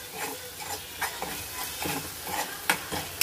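Spices frying in a pan for a home vegetarian dal khichdi lunch, a soft sizzle broken by repeated spoon scrapes and taps, close and fairly quiet, with no speech.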